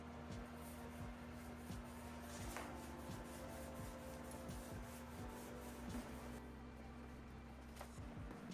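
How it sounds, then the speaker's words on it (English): Steady sanding of wood filler on a mahogany furniture base, a continuous close rubbing and scraping with a constant tone underneath, the pass strokes blending into an even wash. "I'll go ahead and sand this smooth"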